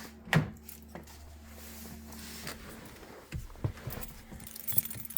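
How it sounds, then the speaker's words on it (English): Door of a 2022 Rivian R1T launch edition pulled open by its handle: a sharp click and clunk near the start, then quieter handling taps, rustle and a soft thud as someone climbs in, no speech. "Grab the door handle, pull out."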